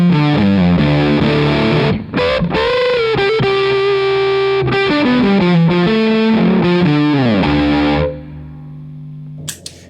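Electric guitar through a cranked KingTone Fuzz Face-style fuzz pedal: loud, thick, saturated sustained chords and notes with some background hiss for about eight seconds, then a drop to near silence with a brief noisy burst at the end.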